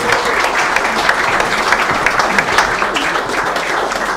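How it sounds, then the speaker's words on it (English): A large audience at a football club fans forum claps for the chairman, a loud, dense, continuous wash of applause that stays even from start to finish with no talk over it. "And now keep the applause going"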